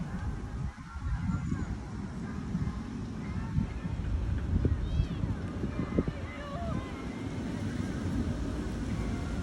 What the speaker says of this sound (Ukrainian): Ой, який вітер пішов.